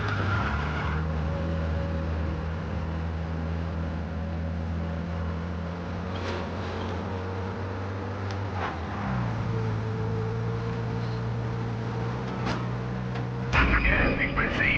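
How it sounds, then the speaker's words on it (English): In Mafia Definitive Edition, a car is driven recklessly and its tires squeal and skid, heard under steady engine hum, a droning radio-like tone and scattered thumps, with a sharper burst near the end. "Some fella near you is driving like a madman."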